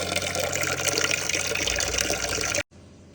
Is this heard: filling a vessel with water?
yes